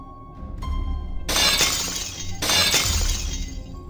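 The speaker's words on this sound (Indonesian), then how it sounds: "tiba-tiba aku dengar seperti ada benda terbanting pecah" An object is slammed down and shatters, with two loud breaking crashes about a second apart, each followed by a bright spray of glass-like debris.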